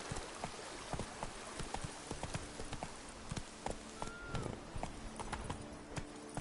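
A horse gallops in the video game Witcher 3 Blood and Wine, its hooves pounding in a quick, steady clip-clop rhythm that stays close and even throughout.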